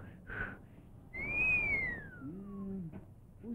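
A person whistles in imitation of a sabiá thrush in a 1952 Brazilian film: a single clear, rising-then-falling whistled note, followed by a softer, lower two-tone whistle, heard alone and fairly faint.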